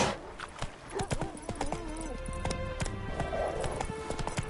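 Geralt's horse Roach gallops in The Witcher 3, its hooves a quick, steady clip-clop that runs through the whole stretch with soft game music underneath.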